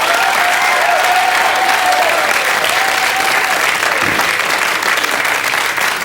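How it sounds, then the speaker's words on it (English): A studio audience at a 1992 television quiz show applauds steadily, loud and dense clapping holding throughout without a break. "Give them a round of applause."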